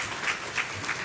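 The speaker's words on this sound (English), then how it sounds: "let us all please give a round of applause to our last panel" Audience applause at a domestic violence community symposium after a panel, a brief faint burst of clapping heard from a distance.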